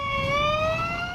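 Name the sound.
ambulance siren in Detroit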